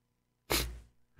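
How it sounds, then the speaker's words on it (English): A single sharp sneeze from a man on a live radio show, a loud burst followed by a fading breathy tail, then a short intake of breath. "here we go with the sneezing again"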